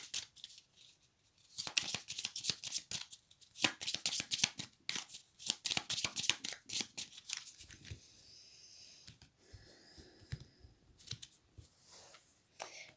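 Tarot cards are shuffled by hand in repeated quick riffling bursts, loud and close, then softer scattered card taps and slides toward the end, with no talking.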